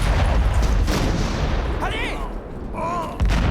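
Artillery fire and bombardment in a French war film make a loud, continuous roar of blasts and rumbling, with a shouted voice cutting in partway through.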